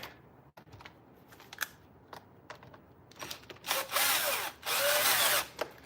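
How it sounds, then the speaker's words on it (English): Power drill driving a screw into a Bissell 2X vacuum during a repair, heard as a few short whirring bursts followed by two longer, louder runs near the end, with faint handling clicks before. "Let me get my first screw in so I can at least solidify it"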